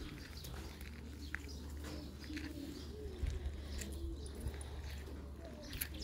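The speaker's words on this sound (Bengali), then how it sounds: "এই যে দেখেন আমাদের কবুতর মামারা খাইতেছে" Pigeons coo softly while feeding, low murmuring calls over a steady low hum, with a few faint chirps and light rustles scattered through.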